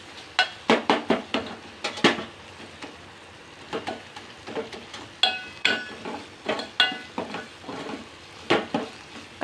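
A spoon stirs homemade onion-garlic spice masala in oil in a pan, giving repeated close scraping and clinking strokes in uneven bursts over a soft sizzle, with no one speaking.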